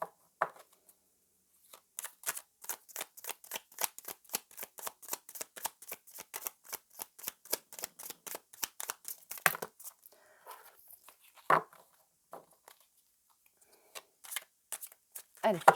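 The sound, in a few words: shuffling a deck of cards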